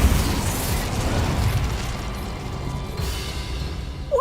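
A fire spell cast in Hogwarts Legacy, a dense roaring burst of flame that stays loud and sustained throughout with a steady rumbling low end, ending in a brief sharper flare.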